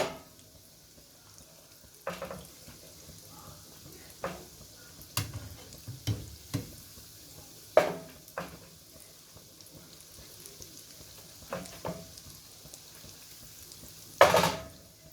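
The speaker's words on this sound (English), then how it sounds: "you can use your big spoon to transfer it into the fryer" Cinnamon ring doughnuts fry in a pot of oil with a soft steady sizzle, broken by scattered spoon clinks and scrapes against the pot, fairly quiet and close.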